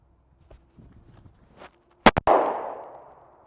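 Pistol fired from the draw at an outdoor shooting range: a loud, close pair of sharp cracks with a ringing decay after a few soft footsteps and shuffles.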